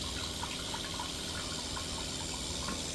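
A garden hose runs fresh water into a plastic pail beside a maple syrup boiling setup, giving a steady, unbroken splashing pour with no talk.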